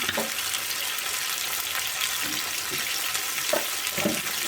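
Sliced ivy gourd frying in hot oil with salt and turmeric gives a steady, close sizzling hiss throughout, with a few soft stirring knocks toward the end.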